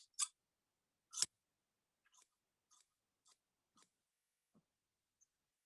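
Scissors trim the seam allowance of pant fabric in about eight quiet, separate snips spaced irregularly across a silent background, with the first two crisper and louder than the rest.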